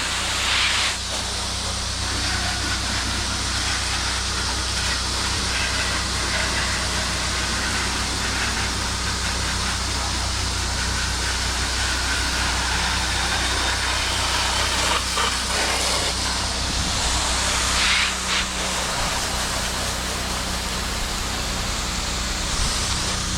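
A P40 softwash machine runs with a steady engine drone and a broad hiss of spray, constant and fairly close throughout.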